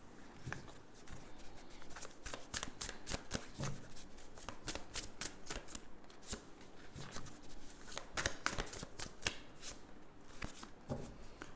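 Tarot cards shuffled continuously by hand, a dense run of crisp riffling flaps and slaps in quick irregular succession, close and fairly quiet with no talk.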